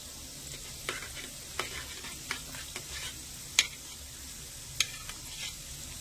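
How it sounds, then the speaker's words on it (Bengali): Sweets made from flour and sugar fry in oil over a raised gas flame, giving a steady sizzle with scattered pops and sharp crackles, close by and without speech. "এবারে আমি গ্যাসের আঁচটা একটু বাড়িয়ে দেব। গ্যাসের আঁচটা বাড়িয়ে একটু লালচে করে ভেজে নেব।"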